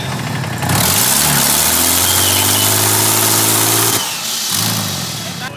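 A loud twin-turbo AU Ford Falcon engine roars and revs steadily, its pitch holding then dropping as it cuts out abruptly on boost, with a voice briefly audible near the end.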